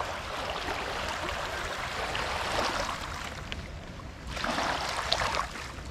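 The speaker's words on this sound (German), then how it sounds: "Was so ein kleines Motorboot ausmacht." Choppy wake waves from a small motorboat slosh and slap steadily nearby, with a low engine-like rumble underneath and surges of splashing.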